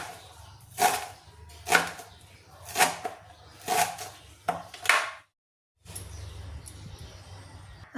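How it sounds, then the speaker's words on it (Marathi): Fresh coriander being chopped with a knife, five or six distinct cutting strokes at a steady rhythm, close and clear, then a brief silence followed by low kitchen rustle. "आता सगळी कोथिंबीर या पद्धतीने कापून घेऊ."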